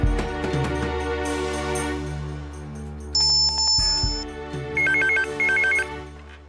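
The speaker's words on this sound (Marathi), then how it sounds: "मला असं वाटतं वसुला, आपण पोलिसांना फोन करूया." A telephone rings as a call is placed to the police: repeated bursts of electronic trilling ring tone, loud and close, in short on-off pulses over a low background hum.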